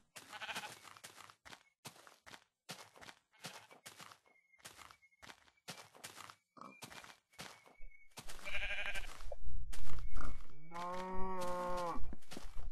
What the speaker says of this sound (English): Brown sheep is brown!